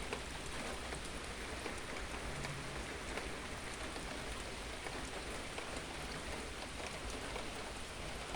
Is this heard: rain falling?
yes